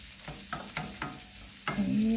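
Chicken blood fries in a pan, giving a steady sizzle broken by repeated scraping stirs at a close, even pace, with no voices.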